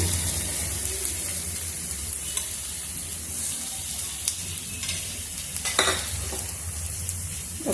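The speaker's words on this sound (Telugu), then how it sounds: "కొంచెం ఆయిల్ వేసుకున్నాము ఈ టమాటా పండుగ పైన" Tomatoes frying in a little oil in a pan, giving a steady, close, dense sizzle throughout. A few spoon scrapes and clatters come near the end, with no talking.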